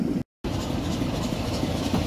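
Heritage train on the West Somerset Railway pulling into Dunster station, a steady loud rumble of engine and rolling wheels throughout, with no talking.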